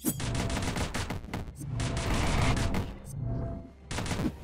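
Rapid, dense bursts of pistol fire and fire-weapon shots from the video game Dungreed during a boss fight, loud and nearly continuous with brief gaps, layered over game effects.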